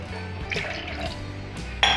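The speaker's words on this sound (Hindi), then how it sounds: "थोड़ा सा और पानी ऐड करेंगे आधा गिलास के करीब" Water poured from a glass into soaked red masoor lentils in a cooking pot, a steady splashing pour of about two seconds ending in a brighter, sharper splash.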